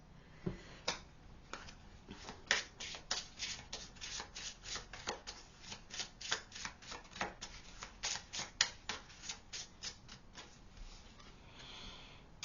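A deck of tarot cards is shuffled by hand close up, giving a quick series of soft riffling slaps and rustles that repeat irregularly for several seconds.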